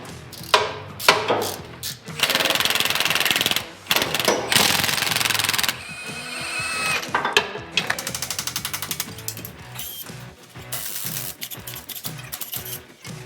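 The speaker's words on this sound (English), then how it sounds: "start undoing all these bolts" Power tool loosening bolts on an off-road 6x6 vehicle during drivetrain work, loud bursts of hammering impact rattle starting and stopping repeatedly, with whirring and rapid clicking stretches between, no talking.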